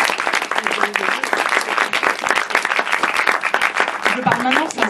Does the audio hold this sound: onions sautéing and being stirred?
no